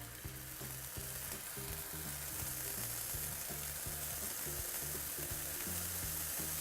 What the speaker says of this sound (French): Maintenant, la poêle est bien chaude. On va pouvoir mettre nos noix de Saint-Jacques.